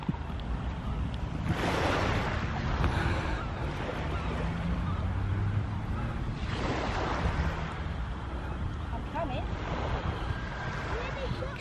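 Sea waves break onto a stony shore at Clacton-on-Sea, with broad washing surges rising and falling under steady wind noise on the microphone, and voices talking faintly.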